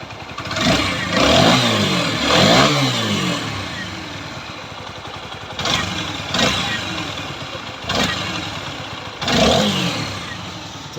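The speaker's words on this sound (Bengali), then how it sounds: "বাইকটির সাউন্ড শুনেন তো" A TVS Apache RTR 4V motorcycle, just repaired after a broken crankcase, runs close by with several throttle blips that rise and fall over a steady idle.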